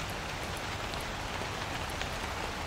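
Steady nighttime rain in the game Night Security, an even, unbroken patter and hiss with scattered drop ticks, fairly quiet and with no voices.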